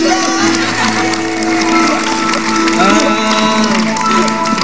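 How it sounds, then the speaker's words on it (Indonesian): Studio audience applause on an Indonesian television talk show, loud continuous clapping and crowd noise mixed with music tones and some cheering throughout. "Tepuk tangan buat dua marbot"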